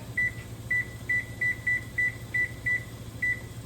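An oven control panel beeps in a steady series of about ten short, clear electronic tones while the timer is being set, each beep evenly spaced over a low appliance hum.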